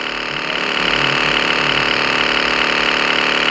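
A video game vehicle's engine drones steadily and loudly, holding a constant mid-pitched hum with no breaks for the whole stretch.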